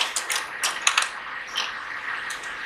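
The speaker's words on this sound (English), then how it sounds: "I'm waiting for the printer to come to the middle." A Canon inkjet printer's carriage shifting inside the machine while a cartridge error is being troubleshot, giving close, irregular mechanical clicks and ratcheting whirs in short bursts with no talk.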